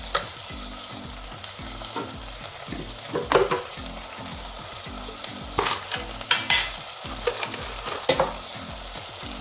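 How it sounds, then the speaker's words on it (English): Curry laksa base frying in oil for Malaysian curry mee, a close steady sizzle broken by repeated clattering scrapes and knocks of a spatula stirring in the pan. "So what we're doing is we are just stirring it until the flavor comes out."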